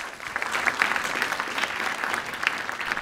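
Audience applause at a design sprint conference, a steady wash of many hands clapping welcoming a speaker to the stage, sustained and fairly even across the moment with no voices on top.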